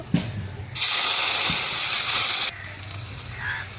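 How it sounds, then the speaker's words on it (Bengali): Dried mango (amsi) water is poured into a hot wok holding tempered oil, producing a sharp, loud hiss that bursts in, roars steadily for about two seconds, then cuts off to quiet bubbling. "আমসির জল দিয়ে দেবো"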